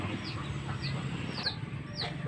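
A flock of backyard chickens clucks and squawks at feeding time, waiting for their grain: repeated close, lively calls over a busy farmyard murmur.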